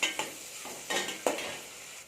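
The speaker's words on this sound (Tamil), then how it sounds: "அதோடவே நம்ம எடுத்து வச்சுருக்க பச்சை மிளகாய் 2ஐயும் சேர்த்து வதக்கிக்கலாம்." Onions and green chillies sautéing in a pan for prawn biryani, a soft steady sizzle broken by four sharp scrapes of a spoon stirring against the metal, close and without voices.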